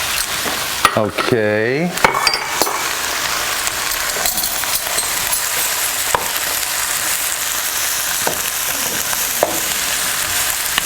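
Carrots and celery stir-fry in a hot pan for a pork stir-fry, a steady close sizzle with scraping and stirring clatter, plus a brief clank early on; a voice speaks once.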